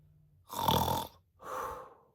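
Two slow snores in a row, a loud rasping inhale followed by a softer, shorter one, close by and with no talking.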